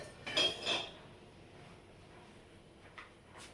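Pots and dishes handled during an evening kitchen routine: two quick clinks of metal utensils near the start, then a quiet stretch with a couple of faint knocks toward the end.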